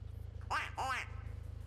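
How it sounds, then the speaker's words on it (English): A quack car horn in Forza Motorsport 6 sounds two loud, nasal duck quacks close together over a low, steady engine drone. "anytime I see another player, I drop him a quack horn just because it kind of quacks me up"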